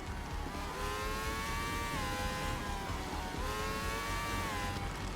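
Race car engines in the Formula Legends video game whine with steady, rising and falling pitch, a continuous buzzing drone over low rumble, moderately faint and without talk.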